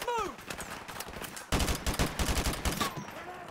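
An AK rifle fires in the Modern Warfare Remastered campaign, with rapid automatic bursts of loud, close gunshots in a steady stuttering rhythm, heaviest in the second half, and voices briefly heard.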